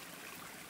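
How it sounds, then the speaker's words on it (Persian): A small stream of water trickles and flows through a forest near a campsite, a soft continuous babbling heard up close with no voices. "یه آب باریکه‌ای داره رد میشه اینجا"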